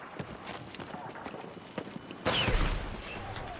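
Gunfire in the video game Battlefield 6, on the Wake Island map, crackles in quick irregular bursts, then a louder broadband blast swells up near the end and hangs over the rest of the mix.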